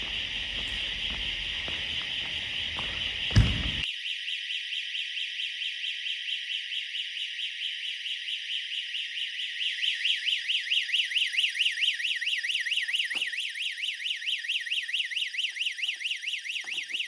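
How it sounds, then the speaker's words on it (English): Security alarm in an abandoned building, a loud, continuous high-pitched electronic tone with a fast pulsing warble, blaring nonstop after a brief thump, echoing through empty rooms. "an alarm began blaring throughout the building"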